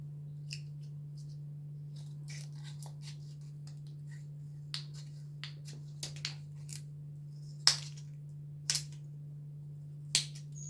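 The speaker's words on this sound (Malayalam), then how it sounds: "നമുക്ക് ലീഫിൻ്റെ ഷേപ്പിലൊന്ന് കട്ട് ചെയ്തെടുക്കാം" Scissors snip through a folded piece of plastic bottle to cut a leaf shape, giving sparse, crisp clicks and short cuts close by over a steady low hum, with no talking.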